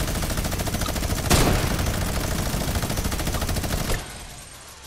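Rapid automatic gunfire in a video game, a dense continuous rattle of shots with one sharp louder blast, cutting off abruptly near the end.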